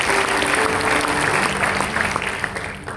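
A church congregation at a Christmas service applauding together, a loud, dense wash of clapping from many hands that holds steady and eases slightly toward the end.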